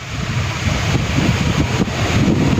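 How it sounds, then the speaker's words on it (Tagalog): Strong wind in Taiwan roars steadily against the microphone, with a low rumbling surge of large ocean waves underneath, loud and continuous throughout. "sobrang lakas ng hangin at ang hampas ng mga alon na sobrang laki"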